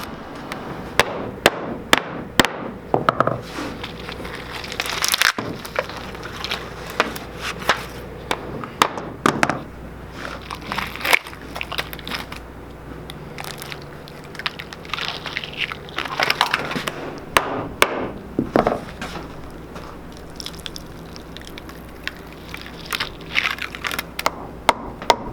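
Cured resin and maple burl piece being worked free of its mold, giving a string of sharp knocks, cracks and pops with scraping in between, close and loud, with no talking.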